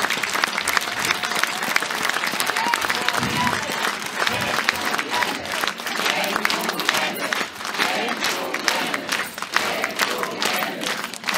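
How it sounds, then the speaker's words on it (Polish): Dense, sustained applause from a large audience after a concert by the mining company's works brass orchestra, steady and loud for the whole stretch, with faint crowd voices mixed in. "Wielkie, wielkie brawa."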